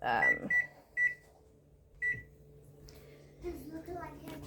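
A kitchen timer beeps four times in short, evenly spaced tones near the microphone during casserole cooking, followed by rustling and a few voiced sounds.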